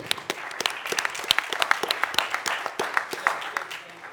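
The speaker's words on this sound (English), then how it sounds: "Please give him a round of applause." Steady applause from a crowd at a tech pitch event, many hands clapping densely with sharp individual claps standing out, sustained throughout.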